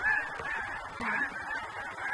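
A great flock of snow geese honks continuously, a dense chorus of overlapping calls at moderate distance with no talk.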